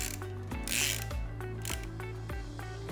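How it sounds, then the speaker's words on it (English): Ratcheting clicks from tightening a screw by hand with a 4 mm Allen key while fitting the radiator on a Rotax MAX Evo kart engine, a close, steady series of sharp mechanical ticks with a faint metallic rasp. "we are tightening the screw with a 4 mm Allen key"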